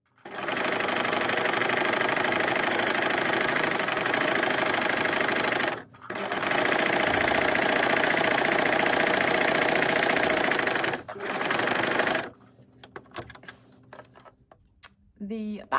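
A sewing machine top-stitches about 5 mm from the seams of a jerkin, running loud and steady close up with two brief pauses before stopping near the end.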